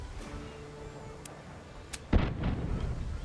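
Cannon fire in the pirate strategy game Tortuga: A Pirate's Tale, one sharp booming blast about two-thirds through, with a rumbling tail after fainter earlier pops.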